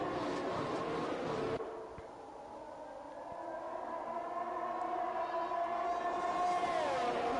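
Train in the Austria track of a racing video game passes with a long rising and falling horn-like tone over steady engine and rail rumble, loud and close, with no talk.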